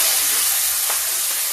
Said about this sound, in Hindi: ये देखिए लहसुन प्याज का अदरक का तड़का।